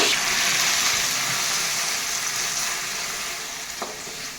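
Very hot oil in a pan for a fish curry sizzles loudly and steadily at close range, a dense hiss that slowly eases over a few seconds.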